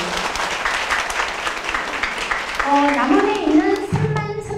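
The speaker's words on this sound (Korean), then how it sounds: "박수 한번 주세요." Audience applause at a Korean business presentation, a dense patter of many hands that carries on for several seconds before a voice begins speaking over its tail.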